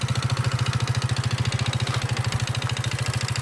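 A Rieju enduro scooter engine idles close by with a fast, even, throbbing pulse that holds steady throughout and has no talk over it.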